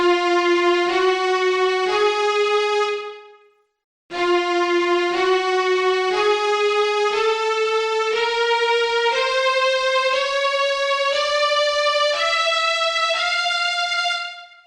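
A clean, sustained tone steps steadily upward through a nine-note scale, played twice with a short pause between runs, each note ringing clearly.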